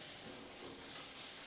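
Steady back-and-forth abrasive rubbing on bare steel of a Holden HZ car body, a soft rhythmic scratching repeated several times, close and fairly quiet.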